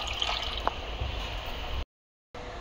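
Milk is poured into water in a pot while making ukadiche modak dough, a short, soft liquid pour with a faint splash that stops abruptly, then resumes briefly.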